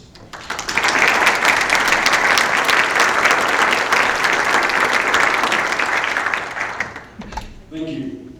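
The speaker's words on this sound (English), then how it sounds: "I'll ask our in-person audience to applaud as we welcome the candidates." In-person audience at a 2021 Albuquerque mayoral debate applauds to welcome the candidates, a loud, sustained round of clapping that fades out before a voice speaks at the end.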